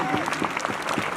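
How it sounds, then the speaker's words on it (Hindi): Applause at a school function at a government higher secondary school, a dense patter of many hands clapping steadily through a short burst, with a voice speaking over it. "जोरदार तालियां बजा और अभिनंदन करो"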